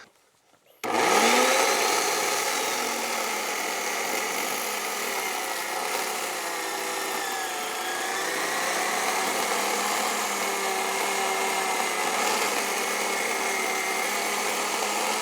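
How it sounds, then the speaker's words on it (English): A chainsaw starts after a brief quiet moment and runs steadily at high revs, cutting down through the middle of a tree trunk for woodturning, close and loud with slight pitch shifts as the load changes. "I'm going to make my chainsaw cut right down through the middle."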